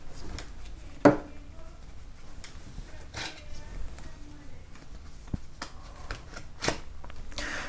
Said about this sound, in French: On commence par bien mélanger les cartes